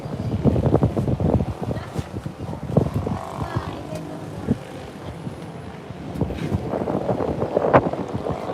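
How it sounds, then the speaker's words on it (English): Wind blows outdoors in the Philippines, buffeting the microphone with a low, rumbling roar that comes and goes in gusts for several seconds, with faint background voices. "And you guys can see the wind blowing here."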